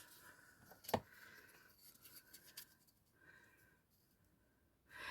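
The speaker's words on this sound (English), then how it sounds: "I'm just going to trim this down just so it doesn't throw the balance of my bow off." Scissors trimming ribbon for a hair bow give one sharp, close snip, followed by quieter faint rustling and handling of the ribbon.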